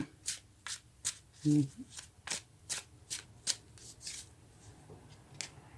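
Tarot cards being shuffled and drawn by hand, a quick series of soft, crisp riffle and slide bursts in an uneven rhythm, close and quiet, with a brief voice murmur partway through.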